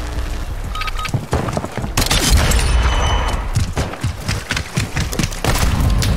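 Gunfire and explosions in Call of Duty Warzone 2.0, loud and close: bursts of rapid shots and heavy booming blasts follow one another almost without pause, with dense impacts and thuds filling the scene.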